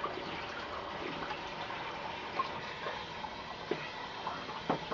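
Hot water pours steadily from a tap into a bowl, a soft continuous gush with a few small splashes and clinks.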